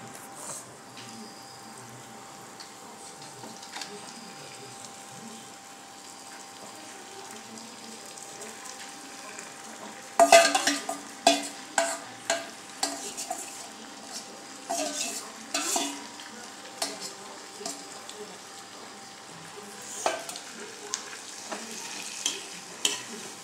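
Meat frying with onions, tomatoes and spices in a home kitchen pan gives a low, steady sizzle, then a run of sharp clinks and scrapes from stirring breaks in near the midpoint and recurs in bursts.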